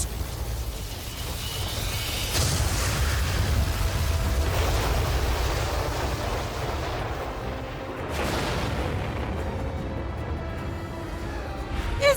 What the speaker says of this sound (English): That's the sound of Lord Hadlar using his most powerful spell, Kaziz.